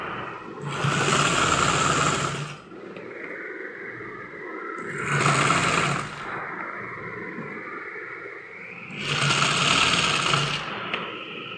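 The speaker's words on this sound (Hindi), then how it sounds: "इसको हम मोड़ के सिलाई मार लेंगे।" A sewing machine runs in three separate bursts while stitching a folded fabric strip for a kurti, each a fast, even mechanical whir and clatter, with quiet pauses between.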